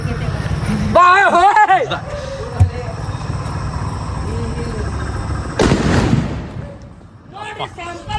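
Diwali firecrackers go off during festival celebrations: a sharp single bang, then a longer loud crackling burst, heard among people talking nearby.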